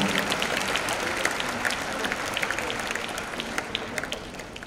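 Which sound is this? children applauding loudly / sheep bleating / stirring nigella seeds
children applauding loudly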